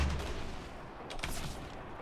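A single gunshot in Fortnite cracks out around the middle of a low-level, steady game soundscape. It is brief and moderately sharp, and no one talks over it.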